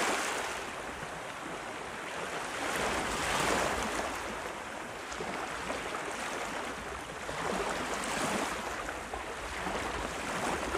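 Ocean waves wash in and recede in slow, steady surges, a broad roaring hiss that swells and eases over the seconds with no voice present.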